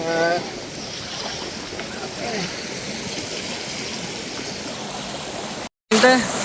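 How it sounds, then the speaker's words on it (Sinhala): Water tumbling down a hillside waterfall gives a constant, fairly loud rushing hiss that holds steady until a brief dropout near the end. "මෙතනින් තමයි වතුර ටික වැටෙන්නේ"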